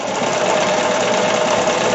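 Domestic sewing machine stitching knit fabric, a steady, close, continuous mechanical whir of rapid stitching without pause.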